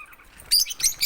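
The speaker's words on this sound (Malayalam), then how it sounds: "പിന്നെ ആഫ്രിക്കൻ ലവ് ബേഡ്സ് 4 പേര്," African lovebirds kept as family pets chirping in a short burst of sharp, high tweets close by, with no talking.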